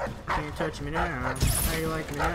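Wolfhound dogs barking and yipping in the video game Dishonored, repeated barks and whimpers mixed with game sounds, under someone talking loudly over them.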